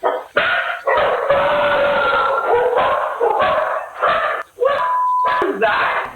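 Dogs bark and howl loudly and close by, in overlapping yelps and long wails that break off with brief pauses.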